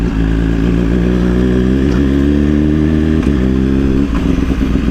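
A motorcycle is ridden close by, its engine a loud steady drone with a couple of brief dips where the throttle eases, and no talk over it.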